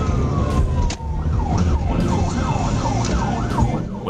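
A police car siren on an Arkansas highway wails in a steady rising and falling cycle, loud and close, over road and engine noise with brief clicks.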